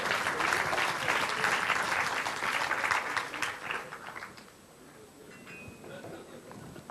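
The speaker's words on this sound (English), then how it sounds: "Hands of applause." Audience applause at a talk, a loud wash of many hands clapping for about four seconds that then thins and fades into scattered claps and room murmur.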